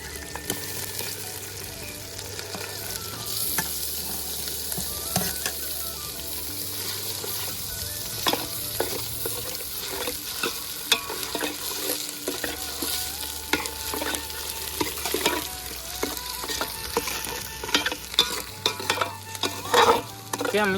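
Garlic and onion frying in a pan for a Kathiawadi-style stuffed whole eggplant dish, a steady sizzle broken by repeated scraping and clinking stirs, recorded outdoors with no talking.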